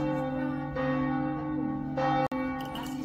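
Church bells ring at midday in Slovenia, sustained resonant tones layered together with a steady ring and a sharp break near the end.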